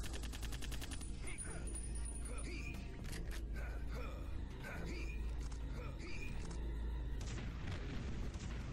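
Rapid bursts of gunfire in Duke Nukem: Manhattan Project crack repeatedly over a low rumbling background, with short electronic effects between the shots.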